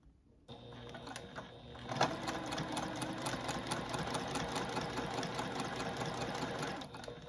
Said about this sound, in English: Now I'm just going to stitch the opening closed.